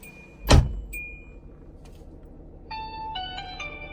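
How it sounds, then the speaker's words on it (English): A car door slams shut once, loud and close inside the vehicle, followed by quiet cabin noise and a few electronic beeps from a dash cam. "All right, I gotta shut my door."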